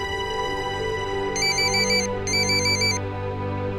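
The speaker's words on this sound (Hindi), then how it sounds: "लो, अब ये फोन की घंटी तो बजती रहेगी।" An electronic telephone ringtone trills in two short repeated bursts indoors in a domestic drama scene, over a steady background hum.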